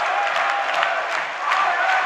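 Basketball crowd in an arena at a Szolnoki Olaj KK versus Alba Fehérvár game, a steady wash of applause and cheering that stays fairly loud throughout.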